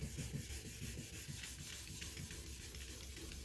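A car headlight being wet sanded with 1000 grit sandpaper, a steady, fairly faint rubbing rasp in continuous back-and-forth strokes, heard alone without talk.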